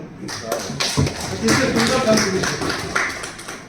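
An audience at a political rally applauds, a burst of clapping rising after a speaker's voice, with people still talking over the claps as it fades.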